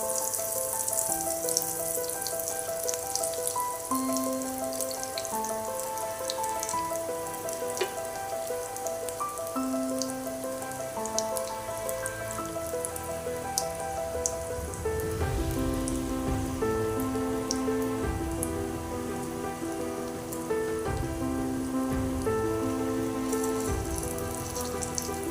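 A chicken cheese roll frying in hot oil, a steady, dense crackling sizzle like rain on a surface, continuous and close throughout, with faint background music.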